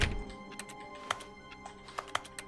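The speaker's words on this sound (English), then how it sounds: "Wait, just hitting the E button just makes a keyboard noise, I guess." Keyboard clicks from pressing the E key in the video game The Stanley Parable, a handful of sharp, scattered taps at moderate level over a low steady background hum.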